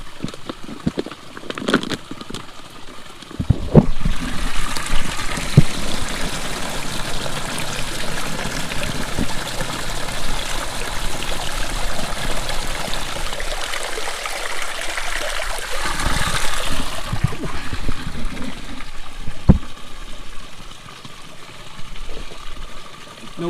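Steady rushing water of a mountain stream on Chief Mountain, close and continuous, with a few brief knocks and handling noises at the start and end.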